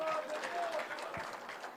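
An audience claps in a hall during a poetry recital tribute, a soft, dense patter of many hands heard at a distance while a voice carries on over it.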